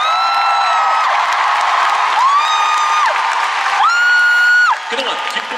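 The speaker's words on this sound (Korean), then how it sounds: "아낌없는 관심과 박수 보내주세요" Arena audience at an ice show applauds and cheers in a continuous loud wash, with a prominent voice sounding over the crowd throughout.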